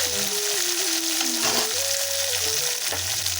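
Radhuni seeds and green chilies sizzle in hot oil for a Bengali lau and lata fish curry, a steady close crackling fry with some stirring scrapes throughout.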